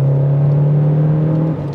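A stock Renault Clio RS200 engine hums steadily at idle with a deep, even exhaust drone, close and loud, holding constant before easing slightly at the end.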